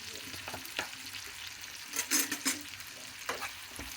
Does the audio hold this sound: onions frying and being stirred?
yes